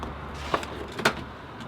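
Door of a touring 4WD opened up close, two short mechanical clunks about half a second apart, the latch release followed by the door swinging open, over a steady low hum.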